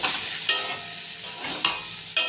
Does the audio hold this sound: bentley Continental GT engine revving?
no